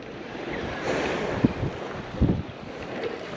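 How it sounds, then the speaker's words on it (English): Wind sweeps across an ocean beach during surf fishing with shrimp bait, a constant rushing hiss over distant surf, broken by a couple of short thumping gusts against the microphone. "Like I said, it is a bit windy today."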